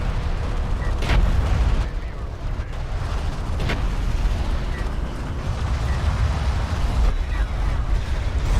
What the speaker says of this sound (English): And there are a lot of missiles coming out